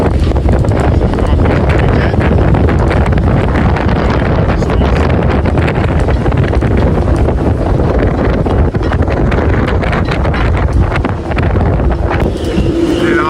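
Gale-force wind buffeting a catamaran moored in a marina, a loud continuous roar with heavy microphone rumble and gusts throughout, close and unbroken.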